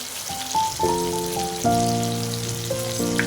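Cashew paste goes into mushroom masala frying in a pan, giving a steady close sizzle under prominent background music.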